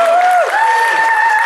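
A church congregation breaks into applause, a dense, steady wash of clapping that carries on for the whole stretch, with a sustained musical tone droning underneath.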